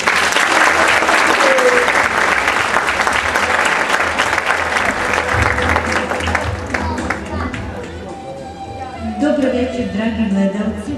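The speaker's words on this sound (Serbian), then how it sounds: "Molimo aplauz." An audience at a spring dance studio concert breaks into loud, sustained applause, a dense wash of many hands clapping that thins slightly toward the end, with voices mixed in.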